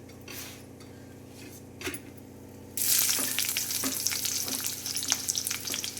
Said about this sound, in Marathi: पनीर इथं मी भाजून काढले आता ह्यातच मी ह्या स्तूपात कांदा टाकते